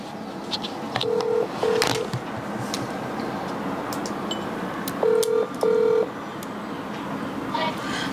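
Telephone keypad tones beep in short paired bursts, two near the start and two more midway, over a low background murmur of faint voices and clicks.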